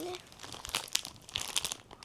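Plastic packaging crinkling and rustling in quick irregular bursts while a parcel from a grandmother is unwrapped, close to the microphone, with a short voice at the start.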